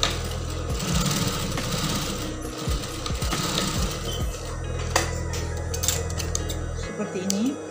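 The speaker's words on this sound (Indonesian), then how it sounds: "kita jahit sesuai radar dengan kampu 4 cm" Sewing machine stitching the lining of a woman's blouse, a steady loud mechanical whir with rhythmic needle clatter running throughout, briefly slowing near the end.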